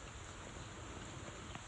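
Steady rain falls on a garden of blueberry and elderberry bushes, a continuous soft hiss with scattered faint drop ticks, close and even, with no voices.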